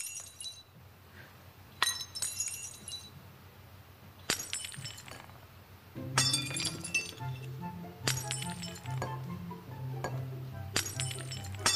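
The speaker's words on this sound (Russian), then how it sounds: "вот я беру стеклянную бутылку и бью ее об землю" A glass bottle smashed against the ground, several sharp shattering crashes and tinkling shards in a row, loud and close with no talking.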